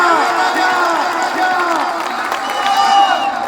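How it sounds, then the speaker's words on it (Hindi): A large crowd at a Karakat political rally with a candidate claps and cheers steadily, a loud continuous wash of applause with voices and shouts mixed through it. "तो ताली बजा के आशीर्वाद देना जा।"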